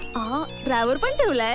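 A mobile phone ringtone plays a looping electronic melody in short repeated phrases, loud and close, while a person talks over it.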